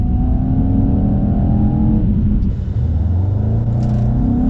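A 600 bhp Mercedes-AMG E63s launching hard, its engine roaring loudly up through the revs with a rising pitch, a brief dip at a gear change, then pulling strongly again.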